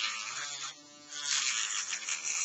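A rotary cutting wheel tool with a rubber wheel cuts into the plastic seam of a laptop battery pack, giving a steady close high-pitched whirring buzz that dips briefly in the middle, with no talking.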